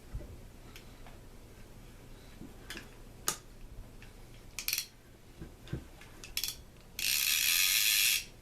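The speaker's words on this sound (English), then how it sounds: "Let's run some line out of this thing and see how our brand new drag washers are working." A Penn Peerless #9 fishing reel with new drag washers: scattered clicks and mechanical ticks, then a loud continuous buzzing drag as line is pulled out fast near the end, close and clear with no talking.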